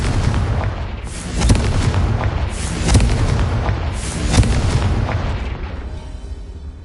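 Confringo fire spell explosions in the Hogwarts Legacy video game: three heavy, booming blasts land about a second and a half apart over a dense, rumbling battle din, with no talking.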